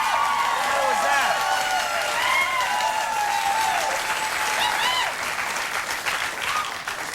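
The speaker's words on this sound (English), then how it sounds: "Let them clap if they want, Doug." Loud, sustained applause from a television talk-show studio audience, with whoops and cheers rising over the steady clapping and easing off slightly toward the end.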